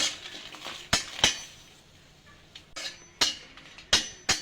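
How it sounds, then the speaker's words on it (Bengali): A pan on the stove as dried chillies and chopped garlic are stirred, with a series of sharp metallic clinks of a utensil against it, spaced irregularly over quiet background. "লঙ্কা দিয়ে দেব, রসুন কাটা দিয়ে দেব, একটু নাড়াচাড়া করে নেব।"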